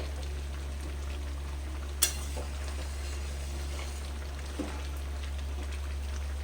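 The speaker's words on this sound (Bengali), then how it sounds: "মাঝে মাঝে নাড়তে হবে একবার করে নেড়ে দেবে" Mixed vegetables for sabjir chhakka fry in a pan with a steady, even sizzle, broken by a couple of sharp scrapes or knocks from stirring.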